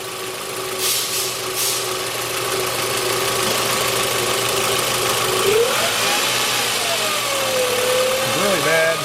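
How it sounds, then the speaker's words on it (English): A car engine hums steadily nearby in a workshop, then its pitch climbs and wavers as it revs up, with a bad whining tone rising over the running motor. "Raise the engine speed a little bit"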